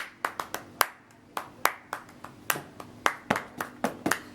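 Flamenco-style palmas in Seville, sharp close-up hand claps beating a brisk, slightly syncopated rhythm of about three to four claps per second, with no voices over them.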